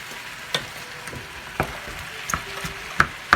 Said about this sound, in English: this is cooking, simmering, and this is how we're going to make our very own sauce for our eggplant.